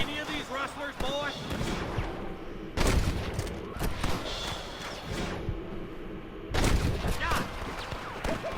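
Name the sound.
gunfight gunfire in Red Dead Redemption, a video game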